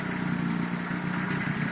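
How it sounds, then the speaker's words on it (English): A supercharged Volkswagen Corrado G60 engine idles slightly high with a steady, even hum and drone, heard close by with no talk. "Idle just a little bit high, but running very, very well"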